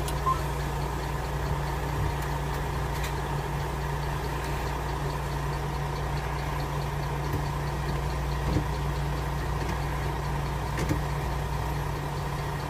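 A car running steadily after being started following forty days parked, its engine humming at an even idle throughout with no talk.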